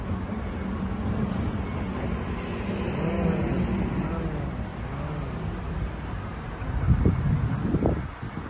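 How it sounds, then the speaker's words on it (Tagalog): Wind blowing in gusty, rumbling waves against the microphone outdoors in Korea, with low muffled voices talking underneath and a stronger gust toward the end. "Hangin nga oh, para katakot rin."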